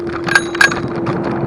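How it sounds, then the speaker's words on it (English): Two quick bright dings from the handlebar bell of a Link Wind hire eScooter in Nottingham, close and clear over a steady background hum. "bell."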